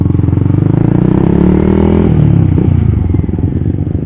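A Yamaha Xabre motorcycle running on IPONE oil revs up close and loud, its pulsing engine note climbing in pitch then dropping back to a rough, throbbing idle with a faint mechanical clatter.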